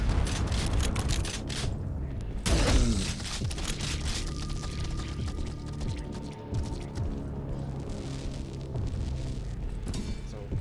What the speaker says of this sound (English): I'm in a cave full of explosive barrels, and all I gotta do is just shoot them